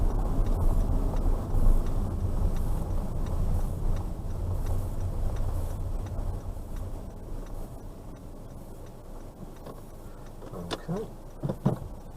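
Steady low rumble of a car driving through town, heard from inside the cabin, with continuous road and engine noise and a few brief clicks and knocks near the end.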